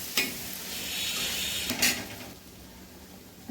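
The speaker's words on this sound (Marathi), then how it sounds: "पाच मिनिटानंतर आपला कांदा थोडा परतलेला दिसतोय, तर आपल्याला तो एकदम लाल रंगावर परतून घ्यायचा आहे।" Onions frying in a pan for a spicy chicken curry, a close steady sizzle broken by two brief bursts of stirring scrapes, with no talking.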